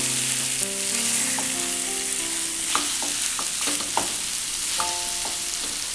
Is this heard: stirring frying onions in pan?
yes